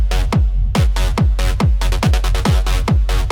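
A techno synthesizer preset plays a punchy, bass-heavy pulse with a pitch-dropping kick-like attack, repeated in a fast, driving rhythm, loud and alone.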